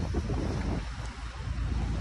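Strong wind roars steadily across a microphone over the open water of Manila Bay, a continuous low rumble with gusty buffeting and no voices.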